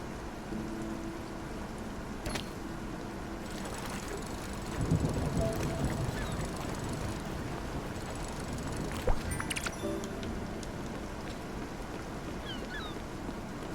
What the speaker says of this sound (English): Ooh, the cozy rain.